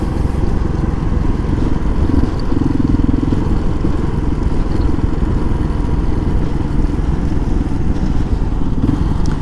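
A 2005 Kawasaki KLR 650 is ridden on desert roads. Its engine rumble and wind rush form a steady, loud drone throughout, with no talking.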